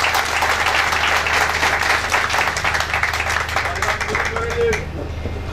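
Audience at a Turkish political party event applauds steadily for about five seconds as a speaker is introduced, dense and loud throughout, thinning briefly near the end.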